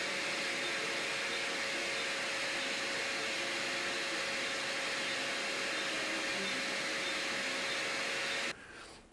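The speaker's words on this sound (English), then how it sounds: "only surface grind the filler piece that we made to thickness" A surface grinder grinds a metal filler piece to thickness, producing a steady whining hiss with a constant tone throughout before stopping abruptly near the end; nobody speaks.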